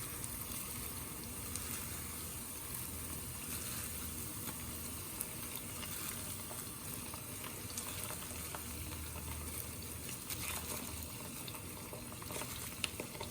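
Steady, close sizzling of olive oil in a hot pan for gambas al ajillo, a dense crackling hiss running continuously without pause.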